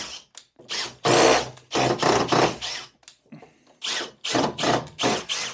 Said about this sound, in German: In dem Fall muss ich ein bisschen mehr Drehmoment einstellen, und dann schrauben wir jetzt einfach hier